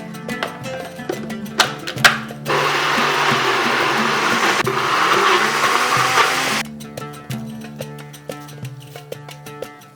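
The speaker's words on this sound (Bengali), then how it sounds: "চেষ্টা করবেন যতটা সম্ভব কম জল দিয়ে শুকনো শুকনো করে বাটতে।" A mixer grinder whirs loudly for about four seconds as it grinds green chillies and spices with little water, set between stretches of clinking and handling noises before and after.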